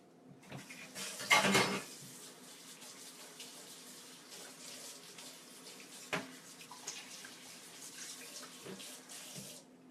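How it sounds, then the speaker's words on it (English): Running tap water splashes over a dirty ladle in a kitchen sink, with loud clattering of metal against the basin early on, then steady flowing water and occasional clinks. "an impromptu dishwashing"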